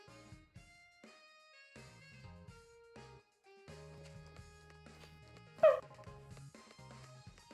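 A sleeping dog makes soft whimpers and small yips, faint and intermittent beneath quiet tonal game music, with one sharper, louder yelp standing out near the end.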